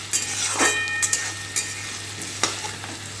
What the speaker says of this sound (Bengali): আদা বাটাটা দিয়ে খুব ভালো করে একটু নাড়াচাড়া করব